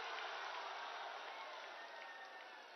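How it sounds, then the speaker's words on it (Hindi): A crowd applauds to welcome the Prime Minister at an election rally in Bihar, a dense, steady wash of clapping that holds throughout and fades slightly at the end. "एक बार जोरदार ताली से प्रधानमंत्री जी का स्वागत।"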